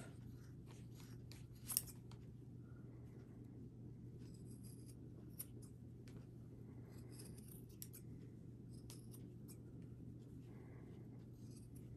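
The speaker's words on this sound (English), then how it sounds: "take your scissors and cut this right off" Scissors snip through craft material for a DIY gnome project, a few faint, sparse cuts and rustles close by over a quiet room with a steady low hum.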